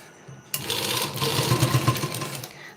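A sewing machine stitches a blouse, starting with a sudden whir and then running steadily and loudly at close range with a rapid mechanical rattle.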